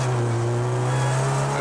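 A rally car restarting after a stall on a special stage holds a steady, sustained engine drone with a constant tone, loud and close throughout.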